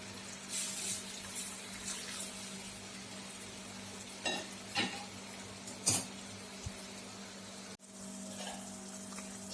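Sugar syrup simmers in a pan while milk is added and the scum is skimmed off, giving a steady soft sizzle and bubbling with scattered clinks and scraping stirs, briefly cut off near the end.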